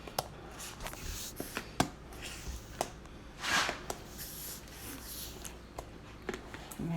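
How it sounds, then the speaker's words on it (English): A spatula folds whipped topping into a mixture for a summer berry dessert, giving soft, quiet scraping and squishing strokes with a few light taps against the bowl, close by and without speech. "So I'm just gonna fold this in until it's nice and combined."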